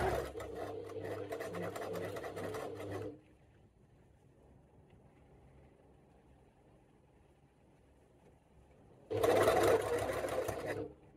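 A sewing machine stitches jumper fabric in two loud, steady bursts, one at the start and one near the end, separated by a long stretch of quiet room noise.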